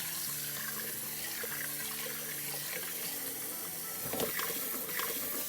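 Tap water runs steadily into an Instant Pot inner pot as lentils are rinsed, a close, continuous splashing flow with a brief louder gush near the end; no one speaks.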